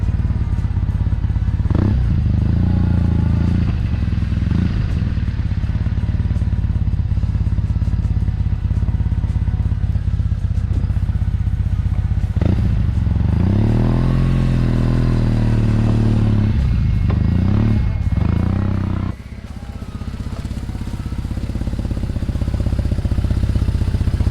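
A BMW R1200C motorcycle's engine drones steadily while riding, a loud continuous rumble that rises and falls as the throttle changes, with road clatter and wind mixed in.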